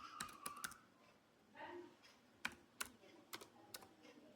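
Several quick keystrokes on a computer keyboard as a fruit name is entered, sharp clicks in short bursts with brief pauses between them, close and fairly quiet.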